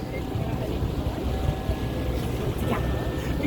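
Steady low rumble of a tour boat's engine cruising on the River Thames in London, with wind buffeting the microphone, continuous and fairly close throughout.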